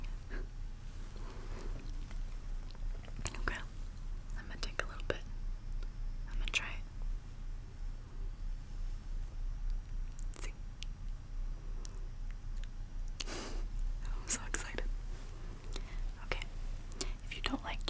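Big League Chew bubble gum is chewed close to the mic, with soft wet smacks and sticky clicks scattered over a quiet hiss, and faint whispering drifts in at times.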